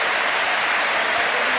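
A 38,000-strong football stadium crowd gives a sustained standing ovation for a departing player in a 1999 Arsenal vs Manchester United match, a dense, steady wash of clapping and cheering with no break.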